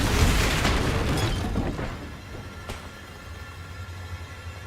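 A Bombarda spell detonating in Hogwarts Legacy, a wizarding action game, with a loud booming blast up front whose rumbling tail decays over several seconds, plus a faint later pop.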